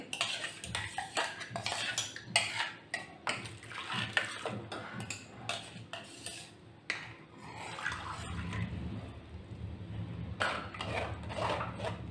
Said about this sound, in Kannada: ಪಾಲಕ್ ಬೇಯಿಸಿದ ನೀರಿದೆಲ್ಲ ಅದನ್ನು ಹಾಕಿ ಕಲಸಿ ಹಾಕ್ತಿದ್ದೀನಿ ಜಾರಿಗೆ